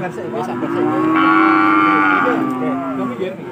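A single cow moos loudly at a large cattle market in Pati, a long drawn-out low call rising and falling over about three seconds, close by with faint market background.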